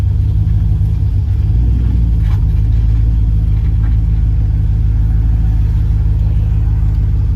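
A turbocharged LS-swapped Caravan driving along, its engine a loud, steady, deep rumble with road noise, no talk.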